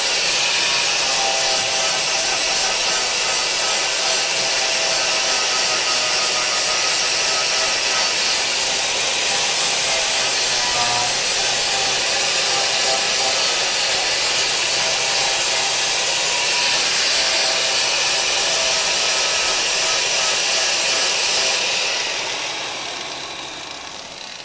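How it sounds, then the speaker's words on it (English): A flap disc on an angle grinder smooths welds on a patched frame rail of a crew-cab Charger, a loud, steady, hissing grind that runs without a break for over twenty seconds and then tapers off at the end. "we're going to flap disc this smooth"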